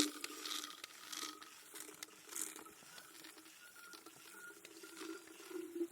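A hand pump on a water filtration system clicks and squeaks in steady rhythmic strokes while filtered water trickles into a container outdoors on a trail, faint and close.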